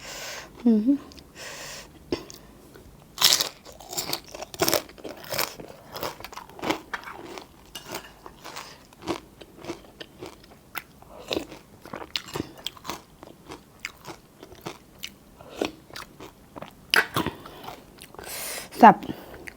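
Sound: chewing and eating khanom chin rice noodles

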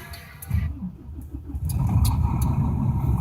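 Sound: car engine starting

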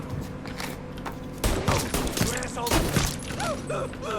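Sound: gunfire in video game Mafia 3

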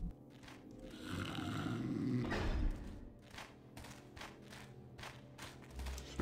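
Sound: guard snoring, from video game Thief

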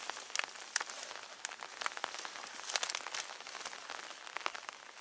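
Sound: heavy rain

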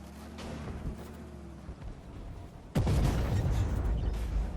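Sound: tank cannon fire in video game

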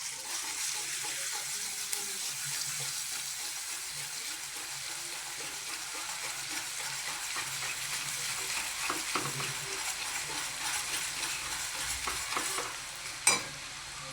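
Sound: ginger garlic paste frying in hot oil

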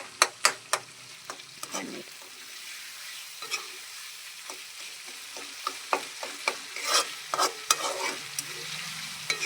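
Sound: tomato and pea curry cooking and being stirred in a pan

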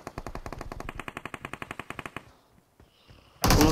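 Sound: gunfire in the video game BGMI

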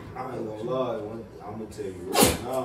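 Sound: sneeze

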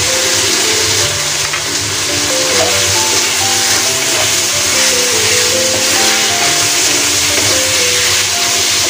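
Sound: garlic cooking in a pan

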